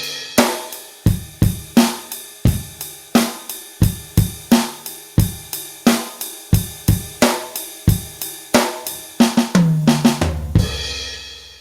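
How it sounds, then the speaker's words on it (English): A drum kit plays a steady groove of bass drum and snare, the time kept on a ride cymbal, close and punchy, ending in a busy two-beat fill that runs into a crash, heard alone. "We're playing it on the ride cymbal, and we've got a 2-beat fill at the end."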